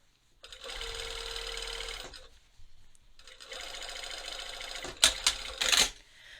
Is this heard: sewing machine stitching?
yes